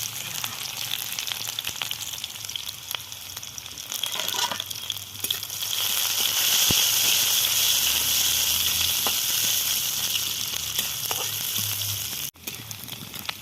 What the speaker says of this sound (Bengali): এরপরে দিয়ে দেবো আমি পেঁয়াজ কুচি, একটা বড়ো সাইজের পেঁয়াজ নিয়েছি আমি, এটাকে লাল করে ভাজবো।